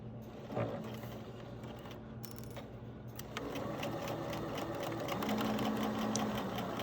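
A sewing machine stitching a centered zipper seam at a standard straight stitch, its motor whirring in a steady rapid chatter that starts, pauses briefly, then runs continuously and louder up close.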